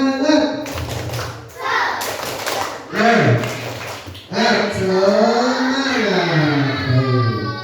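Children in a classroom clap in a quick rhythmic pattern while chanting together in unison, their voices loud and close, the claps and chant running through to the end.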